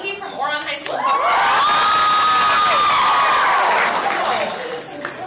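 Anime convention panel audience bursting into loud cheering, whooping and applause for a voice actress, swelling from scattered voices into a sustained roar with shrill screams before tapering off.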